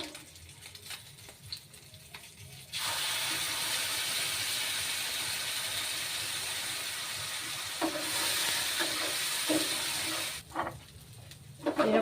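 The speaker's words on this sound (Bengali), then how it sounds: "এরপর আমি এই মশলা যেটা আমি করলাম, টমেটো, আদা, রসুন পেস্ট, কাঁচা লঙ্কা দিয়ে, সেটাকে আমি একটু ভেজে নেব।" A masala of tomato, ginger-garlic paste and green chilli hits hot oil and sizzles loudly and steadily, broken by brief quieter gaps with faint stirring and clatter.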